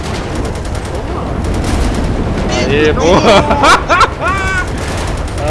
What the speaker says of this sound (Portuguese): Vai ficar dando tiro em nós